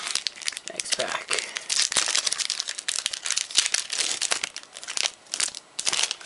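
Crinkling plastic wrapper of a Dark Ascension trading-card booster pack being torn open and crumpled, loud and close, with a voice talking over the busy crackling.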